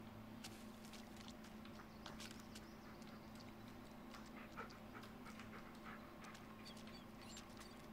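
A dog in the Blair Witch video game pants rapidly and sniffs in quick bursts, close and quiet over a low steady ambient hum.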